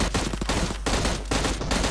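M16 rifle fire in the mobile battle game PUBG Mobile, heard as a loud, dense burst of rapid automatic shots running almost without a break, with a couple of short dips in the volley.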